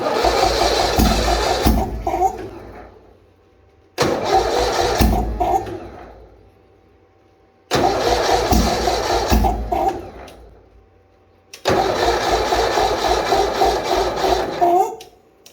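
A Bolens HT-23 garden tractor engine is cranked in -40 degree cold, with four long grinding bursts of the starter separated by pauses, and it never catches.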